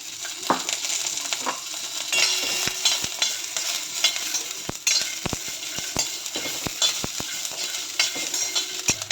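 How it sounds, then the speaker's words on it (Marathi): Peanuts roasting in oil in a pan, a steady close sizzle broken by repeated sharp scrapes and clinks of a spoon stirring against the metal. "शेंगदाणे पण चांगल्या प्रकारे भाजून घ्यायचे तेल टाकून"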